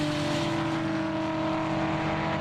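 A Toyota Corona muscle car with a 7M-GTE engine launches off the trans brake and charges down a drag strip at an airport shootout, a loud continuous engine roar with no talk over it.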